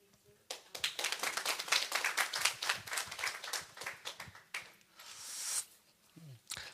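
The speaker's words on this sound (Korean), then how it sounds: "우리 유지길 선교사님 나오실 때 우리 크게 박수로 환영하겠습니다" A church congregation claps loudly to welcome missionary Yu Ji-gil, a dense, fast, steady clapping that runs for about four seconds before fading, with a brief rustle and a voice near the end.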